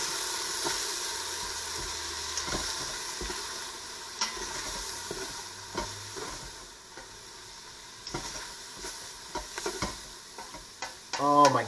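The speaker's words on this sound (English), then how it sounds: "And then we're going to saute these up." Ground coriander and cumin sautéing in a pan give a steady, moderate sizzle with occasional stirring scrapes and taps, close and continuous, ending in a brief clatter.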